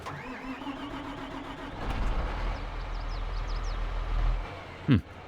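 An engine cranks and catches in Farming Simulator 22, shifting into a steady mid-pitched tractor run with a loud thump near the end.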